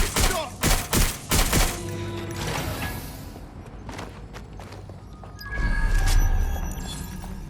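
Rapid bursts of gunfire from the video game Watch Dogs Legion sound close and loud in the opening seconds, then a dimmer stretch of thuds and game effects.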